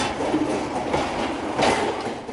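Freight train of loaded wagons carrying a 648-ton load moves on rails at a loading point, giving a steady, continuous rumble with faint rhythmic wheel clatter and a brief squeal, heard alone at close range.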